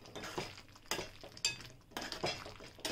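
A spoon stirring no-onion, no-garlic kurma in a metal pan, with soft scraping and intermittent clinks against the pan in irregular strokes, fairly quiet and close.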